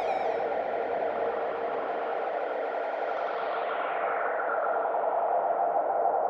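A Boss reverb guitar effect pedal in a self-feeding effects chain producing a sustained washy, distorted drone with echoing tails and a pitch that slowly sweeps downward, steady and loud with no voices.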